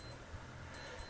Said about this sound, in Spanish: alarma, vamos a dejar que suene